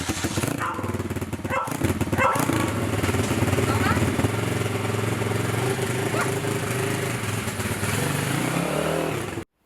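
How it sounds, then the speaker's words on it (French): A 140cc pit bike with a YF engine runs loud and close, its rough motor roar steady throughout before a rising rev near the end and a sudden cutoff. "Allez Marjo, on démarre cette moto."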